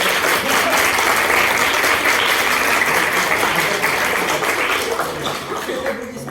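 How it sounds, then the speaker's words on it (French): Sustained audience applause after a pleading match at a student debate event, dense and steady for several seconds before easing slightly at the end. "bravo à vous, on peut vous applaudir."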